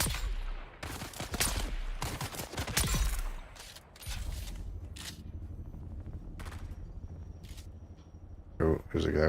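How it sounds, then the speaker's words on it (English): Minigun fire in the Dune video game, dense rapid bursts of gunfire near the start and again at the end, with a player talking over the noise. "there's a guy with a fucking minigun over there"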